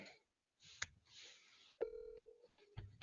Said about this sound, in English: let's go to TKO as he is calling Yetta on the phone